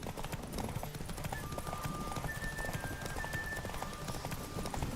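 Roach the horse galloping in The Witcher 3, a steady rapid clip-clop of hooves throughout, with a thin whistling tone drifting over it and no talk.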